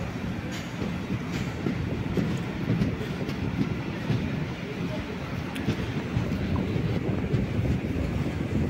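A passenger train pulls into Cherthala railway station in Kerala, heard from on board as a steady, loud rumble of wheels and carriages with wind noise, continuing without a break.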